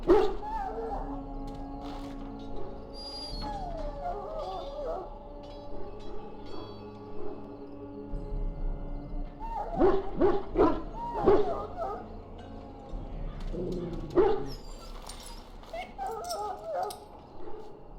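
A dog in Dragon Age: Origins barks and whimpers in short yips and whines, with pauses between, while characters speak over it.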